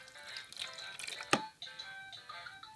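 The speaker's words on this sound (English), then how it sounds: "So I'm just going to pour some water." Water is poured into a Fisher-Price Learn To Flush toy potty, giving faint splashing and trickling with a few sharp drips, one louder splash midway, and no talk.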